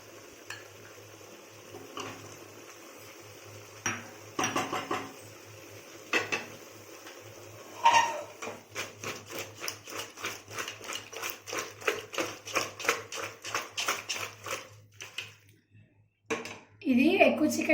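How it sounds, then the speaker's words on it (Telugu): A large batch of country chicken is mixed in a pot with a steady run of rhythmic clattering and scraping knocks against metal. Each knock is close and sharp over a faint hum, and a voice speaks at times. "ఇది ఎక్కువ చికెన్ కాబట్టి గరిటతో అవుతలేదు, అందుకే ఇలా కలుపుతున్నాను."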